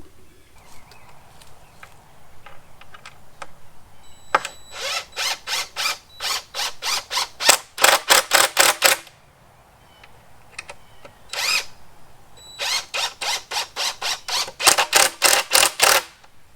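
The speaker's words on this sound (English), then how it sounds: "now we're going to use the new sawhorses and start pounding this together, or actually screwing it together." A drill driving screws to join boards into an outdoor field workbench, whirring in two long bursts of rapid pulsing, each preceded by a few scattered knocks and handling noises, with a quiet pause between them.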